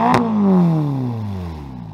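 A Ferrari Roma's engine blips up into a loud, close rev, then the pitch slides steadily downward as it winds back toward idle.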